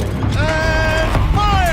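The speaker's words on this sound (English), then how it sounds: "Rotate turret!" A gun turret swivels in the video game Horizon Zero Dawn, giving a short burst of creaking, grinding machinery with rising and falling whines, loud and close for under two seconds.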